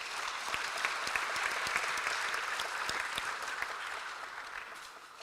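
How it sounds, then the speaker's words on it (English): An audience at a human rights panel event gives steady, full applause that holds at an even level for about five seconds, with no speech over it. "Je crois qu'ils méritent quand même un petit applaudissement pour les encourager pour ce premier panel"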